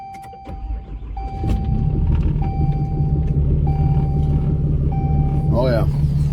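Engine of a mega cab pickup truck cold starting in poor weather, a low rumble that rises and settles into a steady idle, with repeated electronic chimes or beeps and a brief voice near the end.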